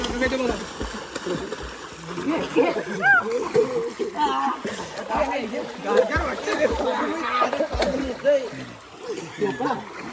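Water splashes repeatedly as boys jump in to swim in the Konkan region, with excited voices shouting and chattering close by over the whole scene.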